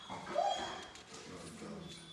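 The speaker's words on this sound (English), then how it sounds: "But puppers are not happy." Unhappy guard dogs whimpering, with a high whine and faint yips at a distance, mostly quiet and muffled.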